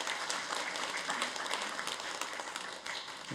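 A church congregation applauds during a Sunday worship service, a steady, dense wash of many hands clapping together for the full stretch, fairly soft and without talk.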